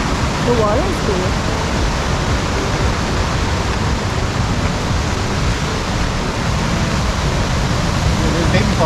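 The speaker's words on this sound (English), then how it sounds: "There's Baby Falls." Baby Falls waterfall in Tennessee: steady, loud rushing water roar fills the whole stretch as a dense, unbroken wash of noise with no voices.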